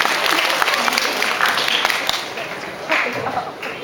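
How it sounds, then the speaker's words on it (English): Audience applause at the Epoch 2010 Dip N Dive quiz stage finals, a steady wash of clapping filling the whole stretch at close range with a slight swell near the end. "Can we have a round of applause, please?"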